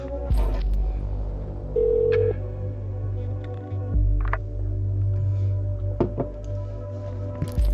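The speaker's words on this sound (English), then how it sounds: "Phone call with Sylve." An incoming phone call rings in the surveillance video game Orwell, a repeated electronic ringing over a low, steady hum of game ambience, with no talking.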